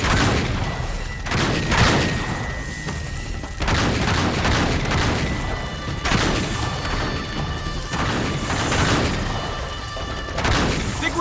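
Gunfire and explosions from the action game Uncharted 3: Drake's Deception fill the scene in dense, continuous bursts, with heavy crashes and booms repeating throughout at close range.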